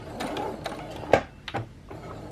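A sewing machine stitching fabric down in short mechanical bursts with brief pauses, moderately close and heard alone.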